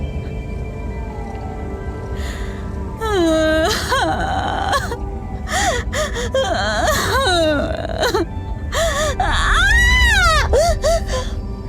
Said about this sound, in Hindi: सिसकने की आवाज बढ़ने लगी